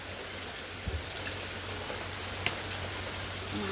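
Steady first monsoon rain falling in a soft, even hiss, with a couple of faint knocks and no voices.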